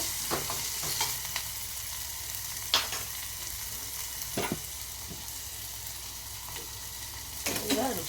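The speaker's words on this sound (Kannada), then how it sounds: "ಇದು ಎಣ್ಣೆಯಲ್ಲಿ ಚೆನ್ನಾಗಿ ಫ್ರೈ" Cucumber pachadi ingredients fry in oil with a continuous soft sizzle, broken by a few sharp stirring scrapes and clinks against the pan, close up.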